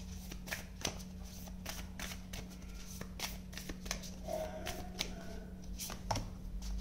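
Tarot cards shuffled by hand in steady, close riffling bursts with soft slaps and ticks, over a low constant hum, with no voices.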